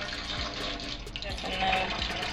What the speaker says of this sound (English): So what I'm doing is pouring my milk in here first.